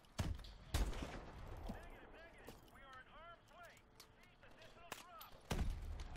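Shots ring out in Call of Duty: Advanced Warfare, with several sharp, loud bursts near the start and another near the end, while a voice talks over the game action.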